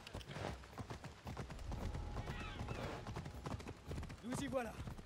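A horse's hooves clip-clopping in Assassin's Creed Odyssey, a rapid, steady galloping rhythm close by, with game effects and a player talking over it.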